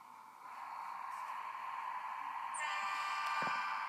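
A train in a train simulator video game rumbles steadily at moderate volume, with a brief horn-like toot partway through and no talk.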